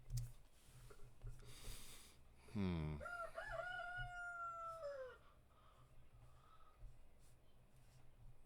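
A rooster crows once with a long, loud, wavering call rising then trailing off, over steady background noise and a few faint thumps.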